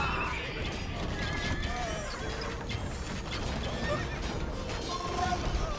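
Horses neighing among cavalry units in an Age of Empires II: Definitive Edition battle, with whinnies and hoof clatter in a dense, busy game soundscape of creaking mechanisms, faint voices mixed in.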